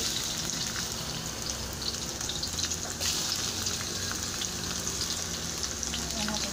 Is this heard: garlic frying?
yes